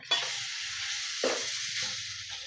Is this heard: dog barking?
no